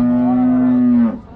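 A single long, loud bovine moo from a cow at a cattle market in Kundharapalli, a steady low drawn-out call close by that breaks off near the end, with no talk over it.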